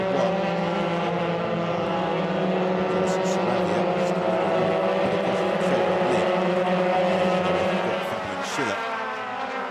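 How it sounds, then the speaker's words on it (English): Euroformula Open race cars screaming down the start-finish straight at Barcelona toward the turn 1 braking zone, overlapping high engine notes sustained and loud, with a commentator talking over them. "They make a magnificent sight, streaming down the start and finish straight to the braking zone for turn 1."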